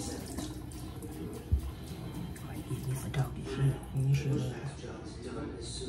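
Water running steadily in a home shower, a continuous wash of noise with a few louder splashes and bumps, heard close.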